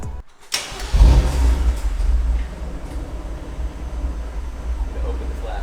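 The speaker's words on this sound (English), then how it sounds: "it's finally time to get our cold start." A car with a custom Akrapovic exhaust and single midpipe cranks and fires up on a cold start, then settles into a steady, loud idle rumble close by.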